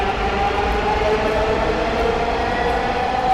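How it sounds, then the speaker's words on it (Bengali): A Dhaka metro rail train passes with a steady, loud rumble and rolling hum that stays even throughout, with no voices over it. "ওই যে একটা যাচ্ছে একটা আসতেছে, 5 মিনিট পর পরে ট্রেন আসে"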